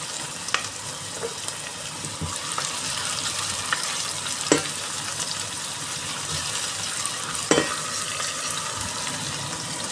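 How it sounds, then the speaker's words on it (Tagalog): Chopped onion and garlic frying in a hot pan for chicken adobo, a steady close sizzle with occasional scraping stirs and soft clicks, no voices. "Nilagay natin yung ating sibuyas at bawang."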